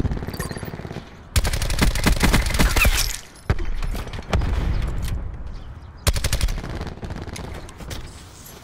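Rapid automatic gunfire in the Black Ops 4 video game, loud close bursts in several volleys broken by short pauses, with softer scattered shots between them.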